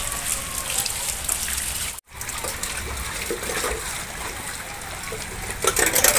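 Steady drizzling rain in Gurgaon patters and splashes, a dense hiss of drops that briefly cuts out, then continues and swells slightly toward the end.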